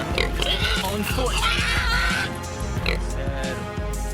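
Wild boars in Texas grunt and oink in rough, overlapping bursts while being caught in a net trap. The animal sounds are close and continuous, and a narrator's voice runs over them.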